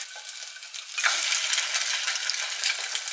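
An egg fries in a hot pan, giving a loud, close, steady sizzle and crackle that swells after the first second, with no talking.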